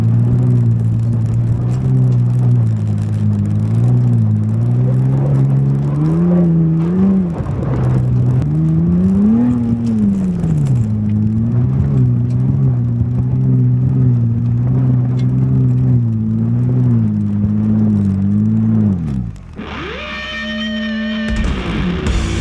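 Off-road vehicle on a flat tire at Rowher Flats: a loud, steady engine drone rises and falls with repeated revving as it spins around for nearly twenty seconds, then drops away and leaves a thinner whine.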